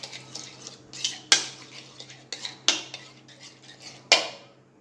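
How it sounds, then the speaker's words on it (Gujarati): A spoon clinks and scrapes against a bowl while yogurt is whisked, with a few sharp metallic knocks in an irregular rhythm. "હવે દહીંને થોડું આપણે ફેટી લઈશું આ રીતે સરસ ફેટી લેવાનું"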